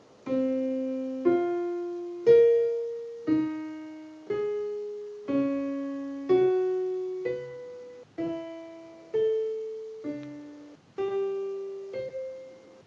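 A keyboard slowly steps through a cycle of fourths, about a dozen single held notes struck one after another at an even pace, each ringing and decaying before the next; moderately quiet and alone.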